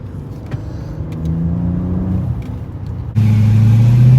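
A Dodge SRT car engine rumbles while driving, a low steady drone that grows louder and shifts into a stronger, heavier note near the end, close and without talk.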